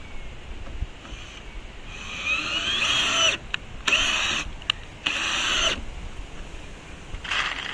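A power driver sinks screws into a wooden garden bed frame in several separate whirring bursts, each a second or so long, with quieter outdoor background between them.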